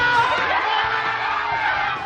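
A crowd cheers and yells loudly for the Philippine beach volleyball team beating eight-time champion Thailand on a beach court, a dense, sustained roar of whoops and shouts without a break.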